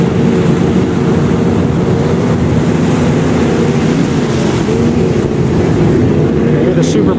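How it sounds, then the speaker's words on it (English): A broad, steady engine roar of racing super boats in the distance at Cocoa Beach, Florida, by the pier, mixed with wind and crowd rumble, loud and unbroken throughout. "You hear the super boats in the background."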